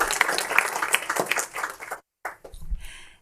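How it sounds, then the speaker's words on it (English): A school board meeting audience claps in a round of applause, a light, fairly faint patter lasting about two seconds before breaking off, with some chatter and room noise after. "Round of applause."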